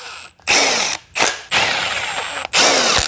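A power tool drives bolts into a Mercedes V12 engine in a garage: four close, loud whirring bursts of varying length, separated by short pauses.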